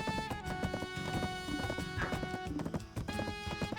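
Video game horse hooves clip-clop rapidly under busy game sounds and a brief whinny. The effects are layered, fairly faint and continuous.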